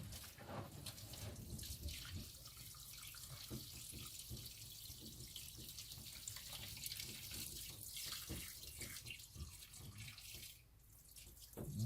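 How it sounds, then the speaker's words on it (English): Water gushing down from cut pipes in a basement apartment during PEX plumbing work, a steady, fairly faint splashing rush that continues throughout with scattered drips and knocks. "I knew there was going to be a lot of water coming down."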